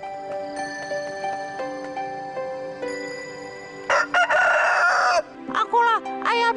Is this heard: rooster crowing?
yes